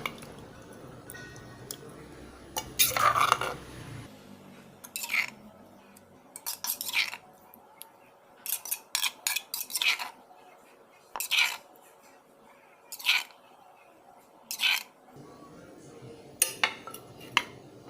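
Seafood dipping sauce is scooped into a bowl, with repeated short clinks and scrapes of a utensil against dishes in regular bursts, close and fairly clear over quiet kitchen background.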